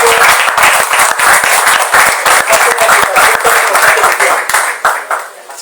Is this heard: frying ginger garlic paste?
no